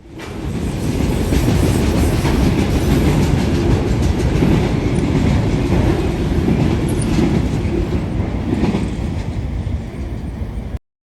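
Freight train cars loaded with trash rolling past on the Norfolk Southern line, a loud, continuous rumble and clatter of wheels close by with no voices.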